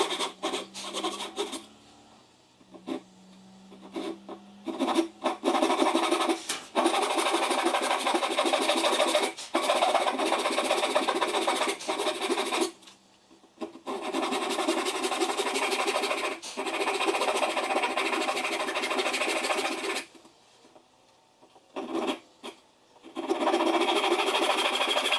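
A hand saw cuts a dovetail in wood, with long, steady rasping strokes that run for several seconds at a time and stop briefly between passes, heard close and fairly loud.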